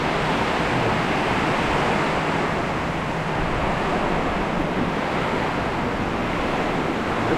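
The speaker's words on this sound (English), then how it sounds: "this high of wind coming through here like that" Strong north wind drives sideways rain across a barn during a sudden Florida storm, producing a loud, continuous roaring rush with gust buffeting on the microphone and no voices.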